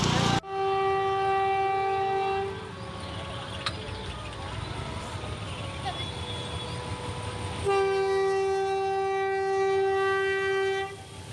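A train passes through a railway station with loud, sustained horn blasts at the start and again later, separated by a rumbling wagon roll and background crowd noise.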